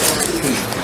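Fantail pigeons coo briefly in a bird market shop, a soft low warble close by, with voices and shop noise mixed around it.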